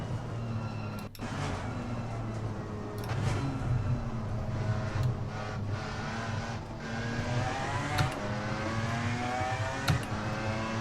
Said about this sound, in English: You can hear the difference in the engine note as well for the BMW. It's a much louder, much hungrier beast.